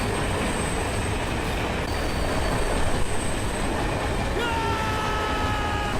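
A train runs steadily through a film scene from Jersey, with continuous rumbling rail noise and faint wheel squeals over the six seconds, and a voice speaking under it.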